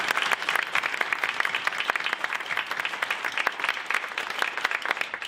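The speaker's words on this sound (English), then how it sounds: "Let's give them a great round of applause." An audience at a panel discussion applauds steadily for several seconds, many hands clapping at a moderate distance.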